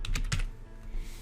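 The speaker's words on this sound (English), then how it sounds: "Next, I'm going to type the title of my essay." Quick keystrokes on a computer keyboard while typing an essay title in a word processor, a short burst of several close, soft clicks followed by a couple of fainter taps.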